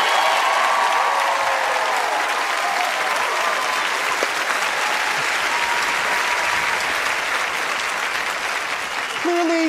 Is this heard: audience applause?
yes